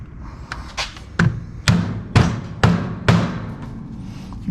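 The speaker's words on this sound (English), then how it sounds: "beat it in with a hammer" A series of sharp, heavy knocks at a steady pace, about seven hammer blows ringing out close by as a part is driven into an LS truck intake.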